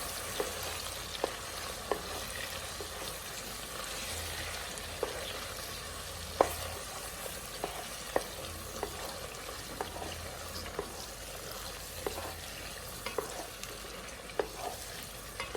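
Tomato paste for egusi stew fries in a pot, giving a steady soft sizzle with a spoon scraping and tapping at irregular intervals, fairly quiet and close with no speech.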